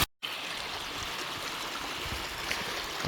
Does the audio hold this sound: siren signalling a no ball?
no